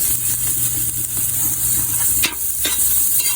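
Ginger, garlic and onion sautéing together in a pan, a loud continuous close sizzle with a couple of brief scraping stirs near the end.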